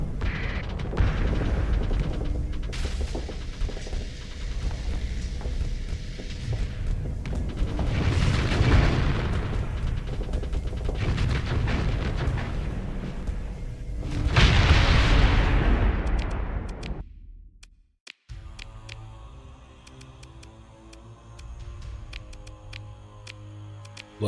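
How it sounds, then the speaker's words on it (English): Orbital bombardment of a planet in the space strategy game Starsector: a long series of heavy, rumbling booms and blasts with dense low-end roar, swelling around the middle, then cutting to quieter game music and interface tones. "Little tactical bombardment."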